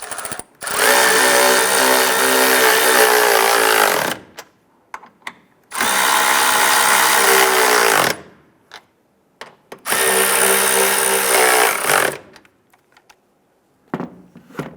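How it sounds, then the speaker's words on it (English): A power tool snugs down the upper strut nuts on a 2005-2010 Chrysler 300 front shock, three loud whirring bursts of about four seconds each, separated by brief clinks and handling noises. "Let's go ahead and snug down these upper strut nuts."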